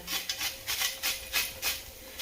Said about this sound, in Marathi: त्यानंतर आता वरतून मी बीट टाकणार याच्यावर किसून थोडंसं